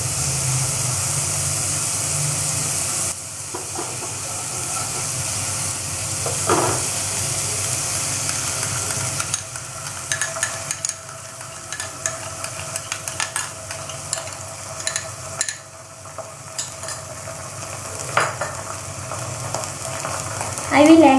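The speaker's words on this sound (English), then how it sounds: "Now I will add the tomato sauce." Tomato sauce goes into a pan of sizzling bread tikka, and a steady loud frying hiss follows. Stirring scrapes and small clatters come through in brief bursts, growing choppier toward the end.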